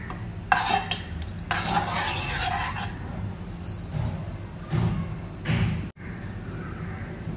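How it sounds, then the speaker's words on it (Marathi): A spoon whisks milk powder quickly into lukewarm water in a bowl, making rapid bursts of scraping and clinking that come and go, close by, with brief pauses between. "त्याच्यामध्ये मी दूध पावडर घालते आणि पटापट अशी मिक्स करून घ्यायची"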